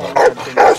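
Dogs barking at a house, two loud close barks in quick succession.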